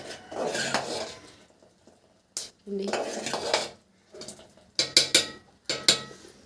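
A spoon stirs payasam in a metal pot, making several bursts of scraping and clinking against the sides, with short pauses between strokes and no voices.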